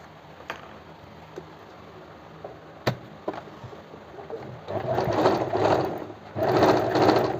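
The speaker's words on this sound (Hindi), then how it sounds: "इस तरह से आप स्टिच लगाते चलिए।" A sewing machine stitches the neckline of a kurti blouse, starting with scattered clicks and taps of the fabric being positioned, then breaking into two close, steady bursts of rapid mechanical whirring, with no talk.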